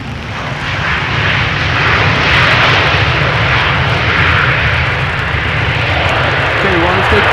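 An Emirates Boeing 777 from Dubai landing at Amsterdam Schiphol with thrust reversers, a loud broad roaring surge that swells and holds steady, with a voice talking over it.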